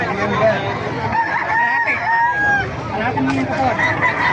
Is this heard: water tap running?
no